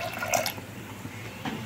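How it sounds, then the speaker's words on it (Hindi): Water is poured from close by into a pressure cooker holding black chickpeas in a home kitchen; a short splash trickles early, then fades to a quiet background. "अब हम एक कुकर चढ़ाएंगे और उसमें डाल देंगे ये चना, और इसमें डाल देंगे थोड़ा सा पानी।"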